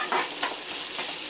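Chopped onion, curry leaves, dried red chillies and mustard seeds sizzle in hot oil in a kadai, a bright, crackling fry broken by short scraping stirs, close and loud with no talking.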